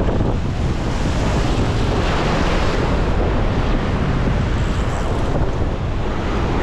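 Ocean surf crashes and washes continuously over coastal rocks on an Australian rock-fishing ledge, a loud, dense roar mixed with heavy wind buffeting the microphone, steady throughout with no voices.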